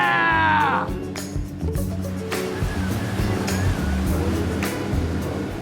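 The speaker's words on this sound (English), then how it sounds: "riding the waves on this awesome speedboat" A speedboat slaps across waves in a loud, steady wash of water and engine noise, with a voice calling out at the start.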